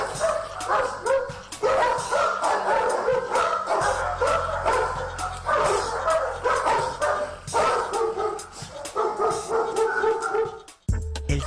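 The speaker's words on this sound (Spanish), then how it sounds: "Estos no son perros comunes, son perros preparados para dar seguridad." Guard dogs at a security training kennel bark repeatedly in overlapping bursts, with yips and whimpers mixed in, loud and close over a low steady hum, ending in a sudden brief drop.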